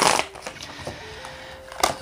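Tarot cards being shuffled close up, in short papery riffles and flutters separated by brief pauses, the last burst a little louder.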